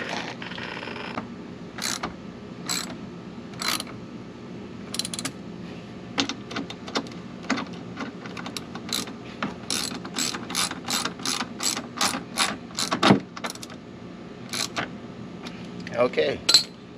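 A hand ratchet clicks in quick close bursts while tightening the bolts of Corbin saddlebags on a 2022 Polaris Slingshot, with metallic creaks and pauses between strokes and a voice heard briefly.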